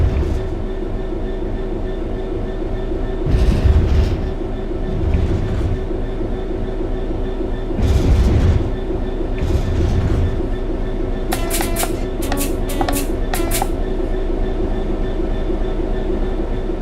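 A locomotive coasts along level track in the railway game Train Sim World 4, giving a steady low rumble with rhythmic rail clatter, a few louder swells and brief high metallic squeals near the end.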